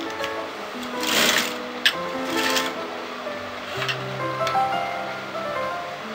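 Sewing machine stitching fabric along a collar neckline, a steady close whirring hum with brief pauses and soft clicks as the material is fed through in short runs.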